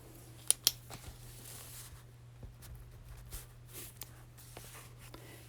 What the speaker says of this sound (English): I will cut off the overhang with a pair of scissors